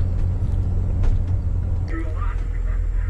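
A 1989 BMW E24 635CSi on a drive around a lake, heard from inside as a steady low engine and road rumble throughout, moderately loud with faint higher cabin noises.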